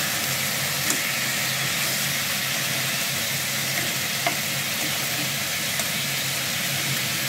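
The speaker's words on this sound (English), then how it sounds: "I'm going to be pan frying until you see the color of the pork chops turn brownish" Pork chops pan frying in a pan, a steady low sizzle and crackle running throughout with a few faint clicks, no talking.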